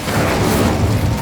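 Incendio fire spell cast in Hogwarts Legacy gives a short, dense booming whoosh of flame, loud and close, lasting just over a second.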